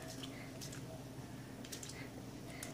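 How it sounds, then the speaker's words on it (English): A spray bottle mists water onto Brusho watercolour crystals, giving a few short, soft hissing spritzes spaced apart over a low, quiet background hum. "And then just get your water and spray."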